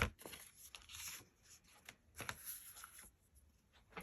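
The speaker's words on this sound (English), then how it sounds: "I'm going to cut that off." Scissors snip through a fabric-covered card while trimming a double-sided Christmas journal clip, giving a few quiet, close crisp cuts and rustles of material with no voices.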